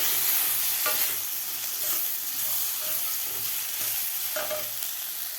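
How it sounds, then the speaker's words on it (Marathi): Chopped tomatoes sauté in hot oil in a pan for a mixed-vegetable khichdi, giving a steady, close sizzling hiss with a few soft stirring scrapes and no voices. "तर टोमॅटोसुद्धा आपल्याला 1 मिनिटभर व्यवस्थित परतून घ्यायचं आहे"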